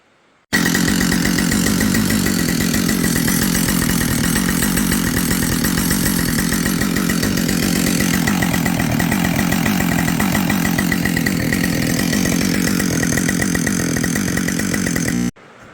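A Husqvarna 572xp chainsaw runs loud and close at a steady high-pitched rev for about fifteen seconds, its throttle not opening all the way, with no talking over it.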